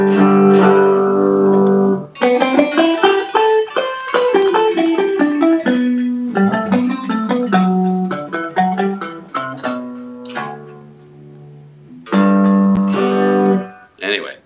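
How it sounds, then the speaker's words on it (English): A pitch wheel plugin's dry, unprocessed output plays a series of loud chords with rich harmonics, the tones sliding and shifting in pitch between held notes, with short gaps of near silence between phrases. "that's actually just the pure dry output of this pitch wheel plugin"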